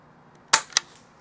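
A Barra Junior 1866 air rifle fires an 8 grain pellet: a sharp, loud crack followed a quarter second later by a second, fainter snap, with quiet room tone around both.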